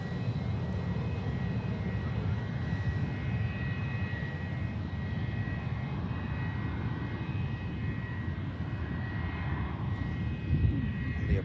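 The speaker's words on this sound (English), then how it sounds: "On the approach we have a Pegasus A320neo and also a Scandinavian A320neo coming in from Oslo" Jet airliner engines, such as Airbus A320neo jets, roaring steadily on approach to an airport; a continuous, fairly loud low rumble and whine that holds level throughout without any talk.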